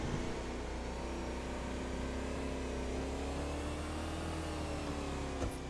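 A supercar's engine hums steadily and builds slightly as it drives off, with a low continuous drone throughout and a brief bump near the end; no talk is heard.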